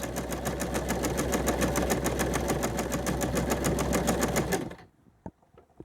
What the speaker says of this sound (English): So we'll sew this smaller line until we get to the end of the buttonhole that we marked.